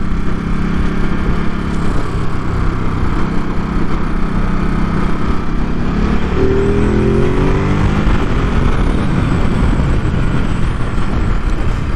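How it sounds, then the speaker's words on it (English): A Ducati Supersport 950S motorcycle revs steadily, its exhaust drone and intake noise filling the whole stretch at close range, loud and continuous with a slight pitch sweep midway. "the beautiful exhaust sounds and the intake sound of the Ducati Supersport 950S."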